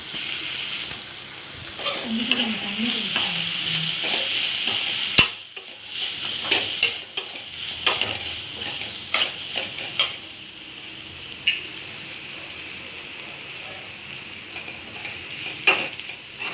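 Spice powders, including homemade chilli powder, being stirred into a tomato masala frying in a pan for prawn gravy, with a steady sizzle and repeated scraping and stirring strokes throughout.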